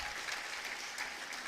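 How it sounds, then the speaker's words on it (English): Faint, steady applause from an audience at a live event in a museum bar, even and continuous throughout. "Sophia, Layla, and Trevor, all deserve a round of applause for what they've done."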